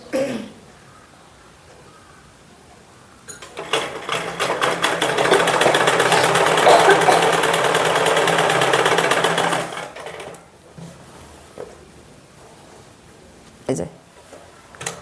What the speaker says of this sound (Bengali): এবার নিচ থেকে একদম ঘুরিয়ে সব দিকে মুহুরির সেলাই করতে হবে